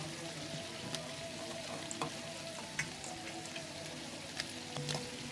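Prawns and zucchini frying together in a pan give a soft, steady sizzle with occasional scrapes and clicks of stirring, fairly quiet and close.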